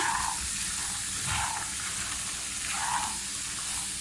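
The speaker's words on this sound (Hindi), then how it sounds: "अब इसमें हम शामिल करेंगे चने और इसे अच्छी तरीके से आप ऑयल में भून लें" Chickpeas fry in oil with cumin in a home kitchen pan, giving a steady, soft sizzle with faint swells of stirring and no voices over it.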